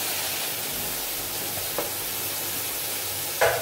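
Mixed vegetables, with turnip and cauliflower, frying in a hot pan, a steady close sizzle and hiss with two brief louder spurts as more goes in.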